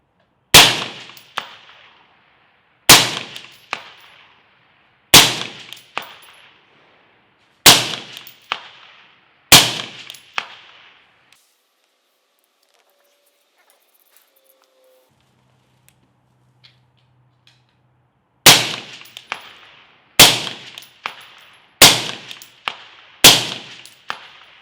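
Rifle shots ringing off steel targets at 200 yards, loud sharp cracks each followed by a short metallic decay: five spaced shots, a long quiet pause, then four more in quicker succession.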